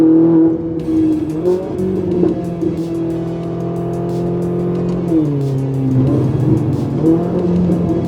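A Ferrari 458 Italia V8 accelerating hard, its engine note rising in pitch through the gears with brief dips at each shift, loud and close with a sharp, high-revving wail.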